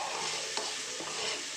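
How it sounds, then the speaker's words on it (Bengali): Hilsa fish with taro and potatoes is stirred in a frying pan, a close, steady sizzle of hot oil with a couple of scraping strokes from the spoon. "একটু নাড়িয়ে নিচ্ছি"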